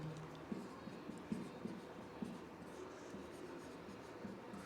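Pen scratching on paper while a maths problem on the surface area of a sphere is written out, a soft continuous scribble with faint taps, close and quiet with no speech.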